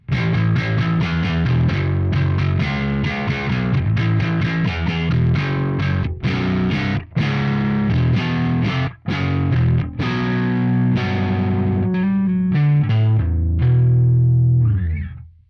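Heavily distorted electric guitar through an amp simulator plays continuous chords with a thick, processed tone, loud and sustained, ending on a ringing chord.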